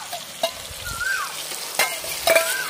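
Ground onion paste fries in a hot pan, a steady sizzle with a few sharp scrapes and clinks of a spoon being stirred through it, close and fairly loud, no voices.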